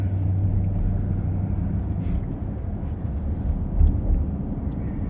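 A car drives through the town of Bridgeport, heard from inside as a steady low engine and road rumble that holds constant throughout, with no talk.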